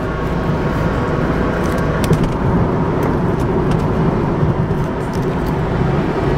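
A Gen1 Honda Insight engine holds a steady, loud drone at high revs above 4,000 RPM, a continuous close engine roar with no pauses or voices.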